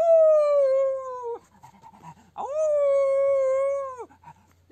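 A person imitates a wolf howl with two long, sustained, slightly falling vocal howls separated by a short pause, loud and close, with nothing else around them.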